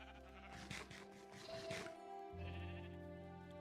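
Several Minecraft sheep bleat in quick, overlapping calls close by, a layered chorus of in-game baas over a steady hum of game background sound.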